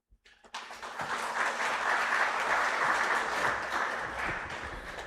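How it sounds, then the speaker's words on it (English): A conference audience at a defence technology event breaks into a steady round of applause after a short quiet start, dense and even for several seconds, with a faint hum running underneath. "A big round of applause once again for sir"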